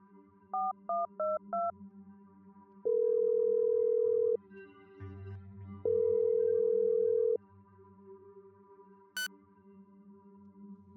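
A burst of quick keypad tones, then two long, steady ringback tones with a pause between them, played quietly.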